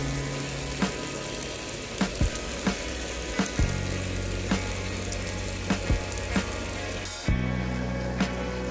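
Beaten eggs fry in a pan with potatoes, giving a steady, loud sizzle and crackle throughout, dotted with small sharp pops and a shift in the frying tone as more mixture goes in.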